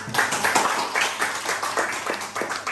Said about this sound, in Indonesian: Boleh kita beri aplaus mungkin